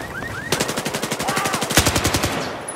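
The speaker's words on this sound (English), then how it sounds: "I already learned so many bad stuff in the middle and I'm being shot at!" Rapid automatic gunfire in the online shooter Battlefield 4, Siege of Shanghai team deathmatch: a steady burst of evenly spaced shots rattling for about two seconds, loud and close with no talk over it.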